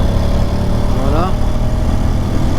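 A 2023 Honda X-ADV scooter's engine drones steadily up close, a rising whine sweeping upward briefly as it accelerates.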